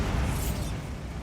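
A Bombarda spell detonating in the Hogwarts Legacy video game: a dense, loud low-end blast that rumbles steadily for about a second before easing off slightly, with no voices.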